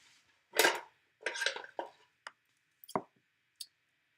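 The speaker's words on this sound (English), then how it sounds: "And then I'm just going to take some scissors" Scissors snip at paper in a handful of irregular crisp cuts and clicks, close by and separated by short silences.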